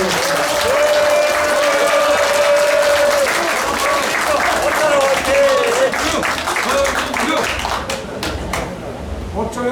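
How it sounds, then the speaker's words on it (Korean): Loud, sustained applause from a crowd at a dance academy opening ceremony fills the space, with a voice and some tonal sounds briefly audible beneath the clapping before it thins out. "뜨거운 박수로 맞으십시오"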